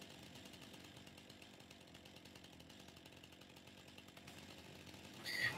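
A chainsaw runs in Farming Simulator 2019 with a steady, buzzing drone that holds at an even level for several seconds and swells briefly louder at the end.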